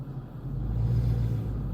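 A Ford Shelby GT350 idles and rolls off with a deep, steady, low rumble close by, fairly quiet with no talk.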